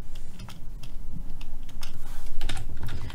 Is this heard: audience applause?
no